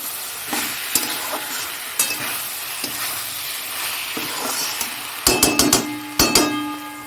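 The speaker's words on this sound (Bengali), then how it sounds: "এই যে এখানে এটাও ফুটে এসছে এটা একদম ভালো করে ফুটুক" Vegetable curry simmers and sizzles in a pan in a home kitchen, with a steady close bubbling hiss broken by sharp clinks of a utensil against the pan.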